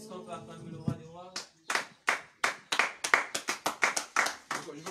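Church congregation clapping in acclaim of the king of kings, at first under a voice, then breaking into loud, rhythmic, evenly spaced claps that speed up slightly.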